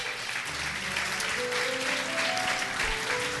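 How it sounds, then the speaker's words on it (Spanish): A church congregation claps steadily throughout, a dense, even wash of applause filling the room with faint sustained musical tones underneath. "Dale un aplauso a Dios."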